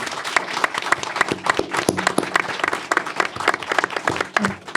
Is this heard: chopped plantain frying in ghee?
no